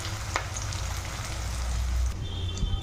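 Onion frying in hot oil in a home kitchen, a steady soft sizzle and crackle with faint scattered pops, low in level throughout.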